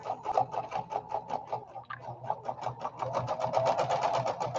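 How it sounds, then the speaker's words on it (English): A sewing machine stitches in a fast, regular rattle of needle strokes, close and moderately loud, with a brief stutter near the middle before resuming its steady rhythm. "It's sewing now."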